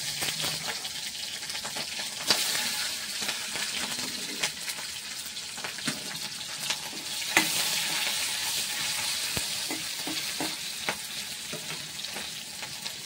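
Chilies hit hot oil in a frying pan while cooking a Bengali gonia fish chorchori, giving a steady close sizzle with a few sharp crackles and spatters, with no voices.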